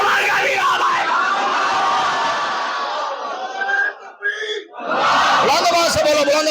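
A large gathering at a religious address shouts a slogan back together in a loud, sustained roar that breaks off briefly and then swells again just as forcefully.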